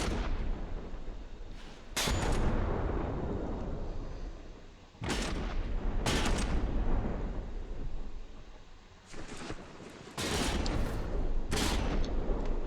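Heavy booming naval cannon shots in a warship video game fire repeatedly, loud and close, each blast followed by a long rumbling roar with brief lulls between.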